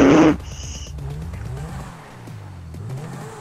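A car engine in Grand Theft Auto V revs and drones through shifting pitch, opening with a short sharp burst, then rising and falling steadily close by without any talk.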